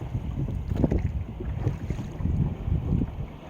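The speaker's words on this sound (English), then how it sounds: "I decided to row instead of sail because I'm basically rowing into the wind." A dory is rowed into the wind off Woody Island in Alaska: rhythmic oar strokes and water splashes come under steady wind rumble against the microphone, with no talking.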